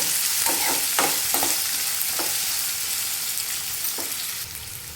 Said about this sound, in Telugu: టమాటా ముక్కను కూడా వేసుకొని ఇవన్నీ దోరగా వేయించుకోవాలి